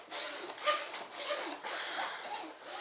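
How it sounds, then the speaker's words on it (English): Resin being rubbed into fiberglass on a radio-controlled F-105 Thunderchief jet model, a close, steady scratchy rubbing in repeated strokes with brief pauses between passes. "rub it down, make sure there's no air pockets underneath"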